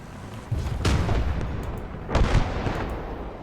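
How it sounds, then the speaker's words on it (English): Mortar artillery fire in the World War II video game Kelly's Heroes: two heavy booming blasts about a second and a half apart, loud and close, each with a rumbling tail over continuous battlefield noise. "Get that mortar up there."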